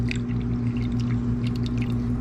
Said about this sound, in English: we're just gonna pour that into our ice cube trays right here